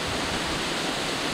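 Waterfall on the Franklin River in Tasmania, a loud steady roar of falling water filling the air, close and unbroken with no other sounds.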